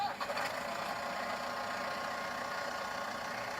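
A small RC excavator motor sound starts with a brief rising whine, then settles into a steady, fairly quiet mechanical hum that runs without break.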